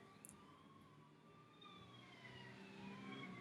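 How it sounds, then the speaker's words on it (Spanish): Emergency sirens passing along a city street, their wailing tones rising and falling, faint and distant at first, then growing slightly louder under a steady hum of traffic. "Mientras tanto escuchamos las sirenas que van pasando por la calle."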